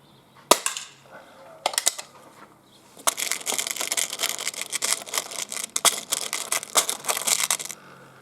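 A Buckmark magnum pistol fires a few sharp, close cracks at a 10-yard range. The shots are spread apart, with a dense stretch of crackling, rustling noise between and after them.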